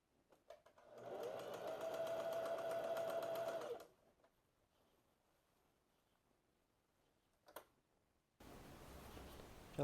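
A sewing machine runs steadily for about three seconds, stitching the weighted seam of a blouse lining, then stops; a brief knock follows and a duller rumble sets in near the end.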